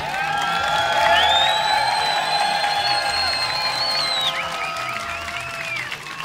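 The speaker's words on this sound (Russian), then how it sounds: "Аплодисменты Lil Kimas." Crowd at a 3x3 breaking battle quarterfinal at a dance festival applauds and cheers, steady clapping with whoops and whistles rising early, then thinning slightly toward the end; an announcer's voice is briefly present.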